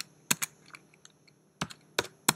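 Someone types a file system path on a computer keyboard, a few crisp keystrokes in small clusters separated by pauses, close and clear in a quiet room.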